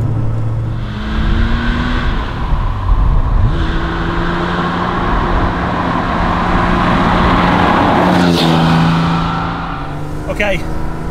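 Porsche 911 Carrera RS 2.7 engine heard from inside while driving: a loud, steady engine drone rising and falling in pitch through gear changes, with someone talking over it.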